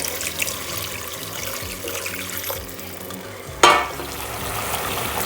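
Pasta cooking water poured into a garlic cashew cream sauce in a pan, a steady watery pour and sizzle with a sharper splash and clatter near the end, no talking.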